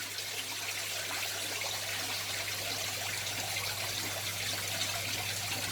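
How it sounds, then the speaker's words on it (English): Water drips and trickles from a drip acclimation line into a shrimp tank, a steady soft hiss-like flow with faint drips over a low hum. "As you can see, it's starting to drip there."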